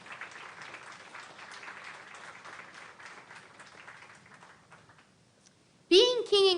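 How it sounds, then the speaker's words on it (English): Audience applauds contestants at a Junior Fair king and queen coronation: a dense, steady wash of clapping for about five seconds that fades out, followed by a single voice speaking clearly and close. "Let's give a round of applause for all of our contestants today."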